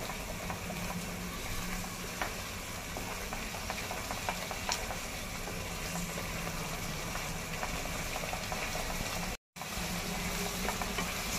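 Gravy for a cauliflower and pea curry sizzles steadily in oil while being sautéed and stirred, a constant close frying hiss with faint scrapes, briefly cutting out near the end.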